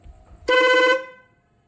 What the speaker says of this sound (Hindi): पहले तो मैं आपको हॉर्न चेक करवाता हूँ इसके ऊपर